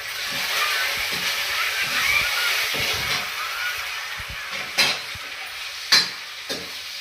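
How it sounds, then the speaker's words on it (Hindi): Curry leaves sizzling as they hit hot oil in a pan with carrots and cumin masala, a steady bright hiss with stirring scrapes and a few sharper crackles toward the end. "कड़ी पत्ता ऐड कर देते हैं।"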